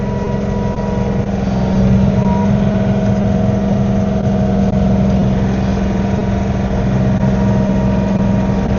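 John Deere tractor with a snow blower attachment revved up, a loud steady engine drone with a constant low hum, close and continuous without pauses.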